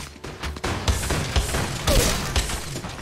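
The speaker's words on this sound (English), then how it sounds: "someone's shooting me" Rapid gunfire bursts in the mobile battle-royale game Apex Legends Mobile, a clatter of shots with several sharp thumps amid busy combat noise, no voice over it.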